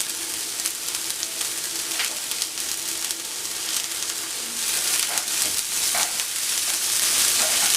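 Garlic and green onions sauté in a pan for a Cameroonian fish pie, a steady crackling sizzle with intermittent scraping stir strokes, growing louder toward the end, with no talking.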